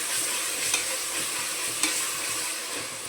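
Ginger garlic paste and tomato fry in a pan for a home-style rice bath, giving a steady close sizzle with a couple of sharp clinks from stirring and no talking.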